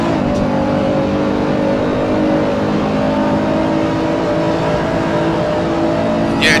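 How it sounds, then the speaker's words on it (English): A Nissan GT-R at full throttle on the Nordschleife in a racing video game, its engine droning steadily and loud with a constant high-revving tone throughout, no voices over it. "John seems to have this Nissan GTR hooked up here at the Nordschleife. He's got that pedal down at the firewall."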